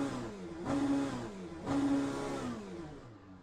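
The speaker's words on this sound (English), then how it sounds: "So, are you hearing some revs there?" Race car engine in the sim racing game Le Mans Ultimate, revving in two strong surges that rise and fall, loud and steady with no talk over it.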